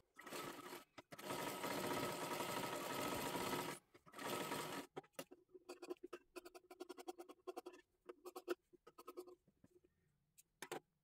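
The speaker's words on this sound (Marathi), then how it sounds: "इथे पाठीमागच्या बाजूला आपल्याला पूर्ण शिलाई मारून घ्यायची आहे" A sewing machine stitches along the back of a saree blouse sleeve in a long, steady whirring run, then stops and starts in a string of short, clattering bursts with quiet gaps between.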